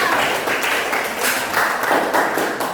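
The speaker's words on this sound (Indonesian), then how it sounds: "Berikan aplaus buat Kak." Classroom applause, a steady wash of many hands clapping close by, moderately loud and continuous without a clear beat.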